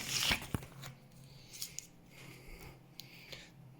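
Packaging of a Tiger JA002 fireworks set being opened, with a sharp snip or tear up front followed by quieter crinkles, rustles and small taps, close and faint.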